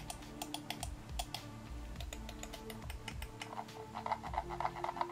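Rapid, close clicks from a SteelSeries Rival 100 gaming mouse, its buttons pressed over and over in a fast, uneven clatter; quiet overall, no voices.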